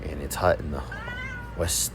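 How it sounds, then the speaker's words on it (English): A house cat gives a few drawn-out meows indoors, close and clear, between and under a person talking. "That's my cat."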